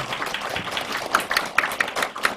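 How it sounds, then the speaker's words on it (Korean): An audience at a Goyang policy forum on eco-friendly farming gives a short burst of scattered clapping, a few sharp claps standing out over a light, sparse applause. "우리 감사의 박수 한 번 좀 쳐주시면 감사하겠습니다"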